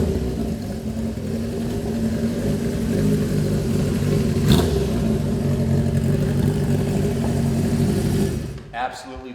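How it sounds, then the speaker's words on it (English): A 1975 Honda CB400F motorcycle engine running steadily as the bike rides in, a loud continuous drone with a brief rise in the middle before it cuts off near the end. "The beauty of these classic Hondas is not only are they a work of art, but they also are music to the ears."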